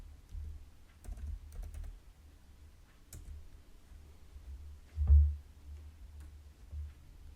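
Someone types a Gradle wrapper command on a computer keyboard, producing sparse, soft key clicks in short clusters with pauses between them in a quiet room. A single heavier tap lands near the end.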